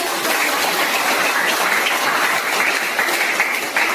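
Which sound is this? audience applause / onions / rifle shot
audience applause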